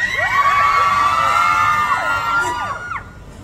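A live crowd screams and cheers at a Thai pop concert in a shopping mall, loud sustained high-pitched shrieks that rise and fall together for a few seconds.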